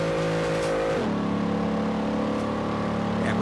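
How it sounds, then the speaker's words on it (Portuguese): Ford Crown Victoria engine in Forza Horizon, a steady, loud drone that drops in pitch at a gear shift about a second in, then holds a constant note while accelerating on toward top speed. "Passa a terceira e dá um som no motor."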